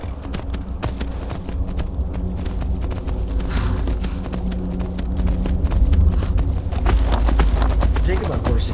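Rhythmic clip-clop of horse hooves trotting steadily in the video game Skyrim, close and continuous, with talking layered over the hoofbeats.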